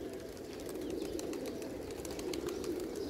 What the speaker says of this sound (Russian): Вон, все небо еще в голубях.